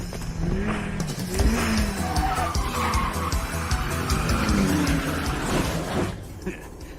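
A four-wheel-drive Mitsubishi Evo 4 drifts through a corner with its engine at full throttle. Tires screech loudly and steadily over a roaring engine, as in an animated street-racing scene.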